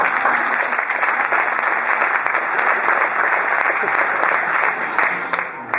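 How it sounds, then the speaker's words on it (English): A large audience applauds throughout a gymnastics show, a loud, dense, continuous wash of clapping that fades slightly at the very end. "if you're going to applaud, you better do it now."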